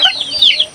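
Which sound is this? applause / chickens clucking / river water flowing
chickens clucking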